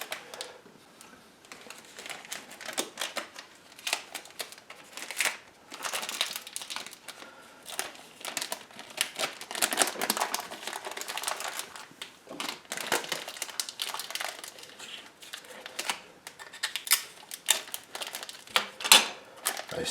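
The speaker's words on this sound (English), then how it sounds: "I'm going to wrap them anyway in this intelligent paper." Waxed paper crinkles and rustles around wheels of white-mold Camembert cheese as they are wrapped, a busy run of close crackling handling noises with brief pauses, and no voice over it.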